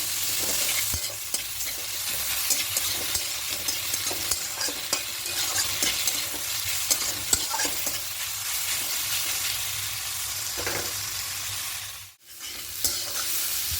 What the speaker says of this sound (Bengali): দিয়ে সব কিছু খুব ভালো করে মিক্স করে নেবো